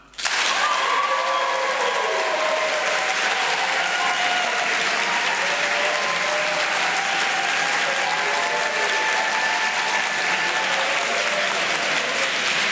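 Steady, dense applause from a debate audience, starting abruptly and continuing loud and even throughout, with faint crowd murmur beneath the clapping.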